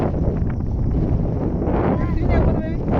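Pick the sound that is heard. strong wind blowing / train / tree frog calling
strong wind blowing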